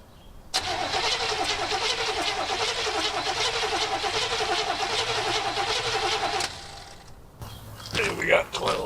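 A 1967 Buick GS340 engine running on weed eater gas cranks steadily for about six seconds with a loud, even, rhythmic churn, then stops; a voice follows briefly afterward.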